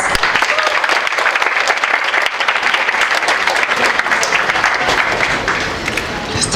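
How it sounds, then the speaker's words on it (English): Loud, sustained applause from a large crowd, dense clapping filling the whole stretch without a break. "Please give them a big round of applause."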